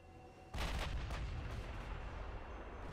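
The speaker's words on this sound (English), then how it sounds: "Yeah, they're doing quite a bit of firing, but they're just not hitting anything." Warship gunfire in the Ultimate Admiral Dreadnoughts video game opens with a sudden heavy blast, then a second shot, and a loud rumbling roar rolls on afterward, with no talking.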